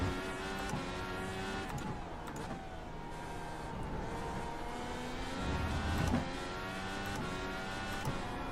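IR18 IndyCar engine racing at Road America in the iRacing video game, whining steadily through shifting pitches as it accelerates and brakes through corners, with a continuous high engine tone and no talk.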